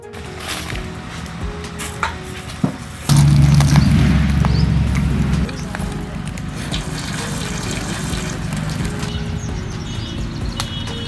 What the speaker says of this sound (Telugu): ఎయిటీ పర్సెంట్ ఉడికిందప్ప నీళ్ళన్నీ వంచేసుకుందామన్నా